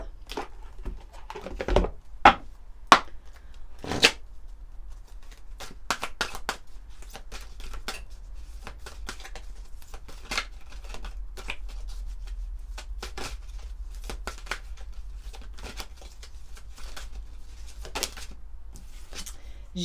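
A deck of awakening oracle cards is shuffled by hand, giving soft, irregular riffling taps and flicks spread over about twenty seconds, quiet with a few sharper snaps early on.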